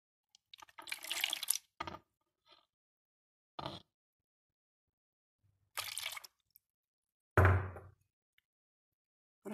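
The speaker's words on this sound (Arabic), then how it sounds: "راح نحط لهنا في الغيسيبيون شوية نتاع الماء دافي" Warm water poured into a bowl while preparing beignet dough: several short separate splashing pours with quiet gaps between, close and clear, no talking.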